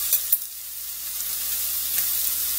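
Pot roast sears in a hot pan for a hard crust, giving a steady close sizzle with two sharp crackling pops near the start and an even frying hiss throughout, no voices.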